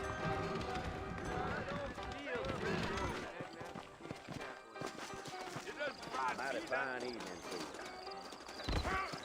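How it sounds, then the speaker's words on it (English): Horse hooves clip-clop steadily with an occasional whinny in the video game Red Dead Redemption, set against busy background music and a speaking voice. "I got the horses saddled up and ready out front."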